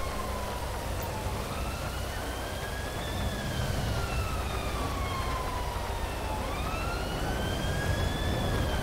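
Ambulance siren in the video game GTA V, a wailing electronic tone sweeping slowly up and down without a break, steady and fairly loud over a constant low traffic rumble.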